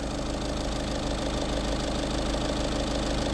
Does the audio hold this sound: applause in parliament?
no